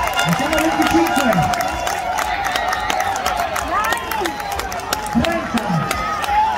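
Crowd applause and cheering at a palo della cuccagna pole-climbing contest during the Palio del Seprio in Abbiate, a steady outdoor din of many people heard beneath an announcer talking loudly over it.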